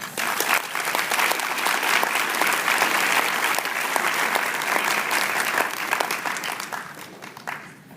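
An audience at a diversity leadership talk applauds warmly to welcome a speaker to the stage, dense sustained clapping from many hands that holds steady and then tapers off near the end.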